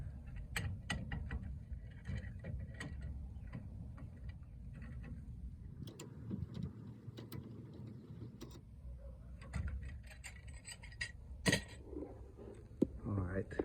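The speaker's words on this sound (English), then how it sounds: "we're just going to use that C-clamp and push the caliper back in" A C-clamp forces the brake caliper piston back on a Honda Pilot that sat unused for 15 years, with uneven ratcheting creaks and sharp metallic clicks spread across the stretch and a voice heard at times.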